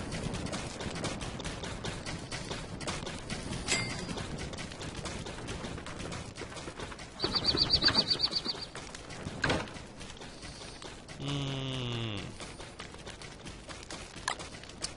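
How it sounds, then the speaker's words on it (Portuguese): A bird in the survival video game Don't Starve: Reign of Giants flaps and coos near the end, among other short in-game sound effects, with no talking. "Olha, tem outro passarinho aqui."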